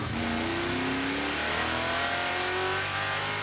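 A 1956 Chevy engine accelerating through gear shifts, with an aluminum flywheel fitted: a loud, close in-car engine roar whose pitch climbs, drops at a shift, then climbs again, continuous with no voices over it.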